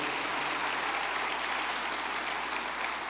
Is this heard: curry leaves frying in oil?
no